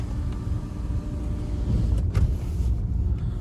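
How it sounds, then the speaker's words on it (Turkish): Sunroof shade sliding closed inside a BMW F10 520d with a 2.0 engine, a soft motor whir under steady low cabin and road rumble, with a faint click near the end. "Üst sunroof'un perdesini kapattım."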